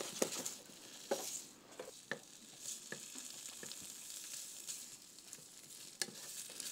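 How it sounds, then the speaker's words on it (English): Asparagus sautéing in a pan with a steady close sizzle and hiss, broken by light clicks and taps of stirring, alone and moderately quiet. "I will get the asparagus, and I will saute them"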